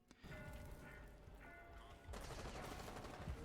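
Gunfire tearing through a wooden barricade in the video game Rainbow Six Siege, a dense rapid rattle of impacts and splintering, quiet and muffled as if from behind, continuing throughout.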